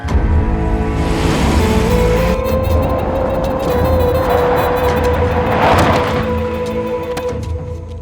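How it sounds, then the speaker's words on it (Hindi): A car is driven off, its engine humming steadily and rising in pitch as it pulls away, with a loud and continuous rumble and no one speaking. "चलो गाड़ी निकालो।"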